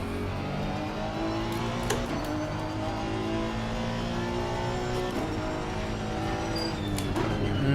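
A race car engine drones steadily in Assetto Corsa Competizione, a continuous loud mechanical tone with shifting pitch and occasional sharp transients from gear changes or kerbs.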